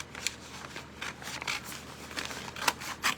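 Scissors cut straight across a folded paper bag at close range, a series of crisp snipping and crinkling strokes in an uneven rhythm with no talking.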